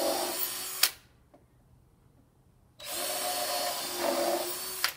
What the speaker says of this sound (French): Je viens serrer mes autres vis.